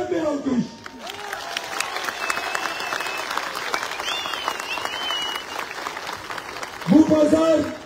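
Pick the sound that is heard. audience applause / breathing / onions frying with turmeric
audience applause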